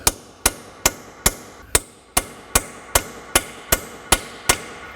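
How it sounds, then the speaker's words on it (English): Twelve sharp metallic hammer strikes driving a 1/2 inch socket onto a bolt while replacing front suspension parts on a 1998 Mazda 626, in a steady rhythm, each ringing briefly, close and loud with no talking. "I have a 1/2 inch socket here that I'm going to hammer on"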